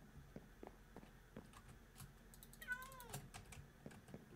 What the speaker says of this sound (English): that stupid cat, I just hear it